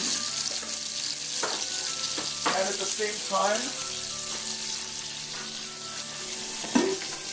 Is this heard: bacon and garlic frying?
yes